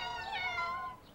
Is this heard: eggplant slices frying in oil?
no